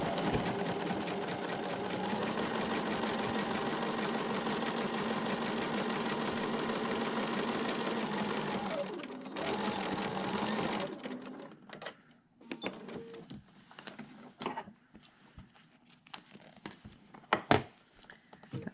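A sewing machine stitches together the two ends of a quilt binding with a steady, close, fast mechanical whir for about eleven seconds, then stops, followed by scattered clicks and handling noises.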